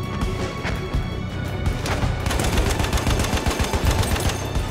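An MG1917 Telescope automatic rifle firing in the video game Battlefield 2042, a loud, continuous stream of rapid shots with sharp, dense cracks and a heavy low-end boom throughout.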